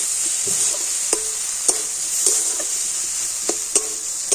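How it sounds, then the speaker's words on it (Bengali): Ground coriander, cumin powder and ginger paste fry in hot oil with a steady high sizzle, while a spoon scrapes and stirs the pan in irregular clicks and taps. "তো সমস্ত মশলাটা একটুখানি ভেজে নেবে"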